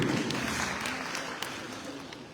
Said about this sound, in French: Est-ce qu'on peut applaudir très fort pour ces auteurs?